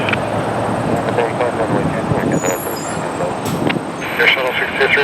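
Air Canada Cargo plane taking off from runway 23 at Toronto Pearson (YYZ), a steady loud engine roar heard close up, with radio talk from air traffic control over it.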